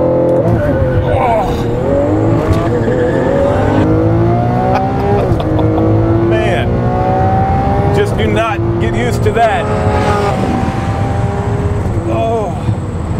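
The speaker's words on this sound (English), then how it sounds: "We're going to do a little race, and we're going to show you the difference between a fast car and an Aventador." A Lamborghini Aventador Roadster accelerates hard down a runway in a race, its engine loud and close, climbing through repeated rising sweeps with brief drops at gear changes, while someone talks over it.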